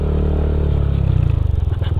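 A motorcycle stuck in mud on a rough road revs hard and close, its engine chugging into a rapid, pulsing labor as the wheel struggles, with clattering and scraping underneath.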